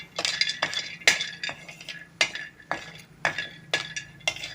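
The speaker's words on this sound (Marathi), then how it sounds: "तर हे बदाम व्यवस्थित भाजून घ्यायचे." Almonds are dry-roasted in a pan and stirred repeatedly, a sharp clink and scrape about every half second, close by and distinct.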